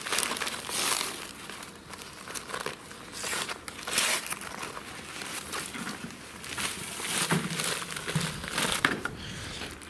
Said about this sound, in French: je vais faire mon mélange dans le seau, je vais mélanger ça